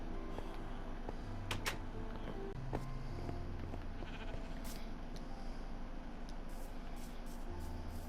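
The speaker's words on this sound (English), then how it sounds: "It's the pink sheep." Sheep bleating in Minecraft on PS4, a few faint bleats scattered over quiet game background with soft clicks and ambient tones.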